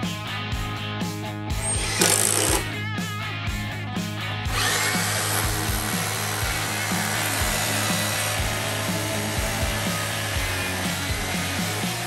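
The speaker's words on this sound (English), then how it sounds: "we're going to fasten these to the floor with some L brackets" Power tool driving fasteners through steel L brackets into a wooden subfloor in a shop, a steady whirring drone with a louder burst partway through, close and continuous with no talking.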